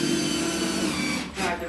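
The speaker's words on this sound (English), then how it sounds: "drive the rest of the screws, and they're all hitting studs" Power drill driving screws into wall studs, a continuous close whirring motor that briefly dips near the end, with no talking.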